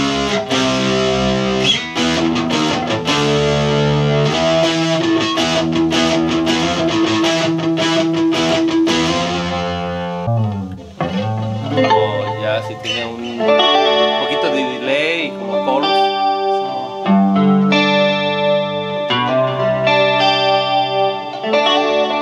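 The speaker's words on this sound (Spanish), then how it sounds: "Y si le aprietas aquí, avienta la distorsión." An electric guitar plays through an effects pedal switching to heavy distortion, with loud, dense strummed chords that break off, then return as brighter, clipped riffs, and no voices heard.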